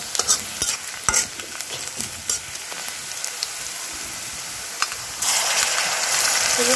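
Tomato bhuna and eggs cooking in a pan, with scattered clinks and scraping as the food is stirred, then a loud, steady sizzle that swells up near the end and carries on to the finish.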